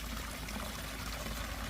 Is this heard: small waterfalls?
yes